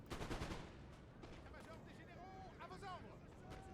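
Musket volleys crackle across a Napoleon: Total War battle for a hill, a burst of close shots up front giving way to scattered distant firing under a low din of battle and a talking voice.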